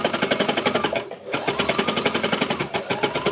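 An embellisher machine needle-punches fabric in a fast, steady mechanical rhythm up close, pausing briefly about a second in before resuming.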